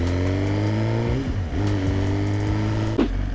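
A 2019 Suzuki GSX-R 1000 sport motorcycle idles loud and close, a deep steady rumble that dips and recovers briefly mid-way, then a quick sharp blip near the end.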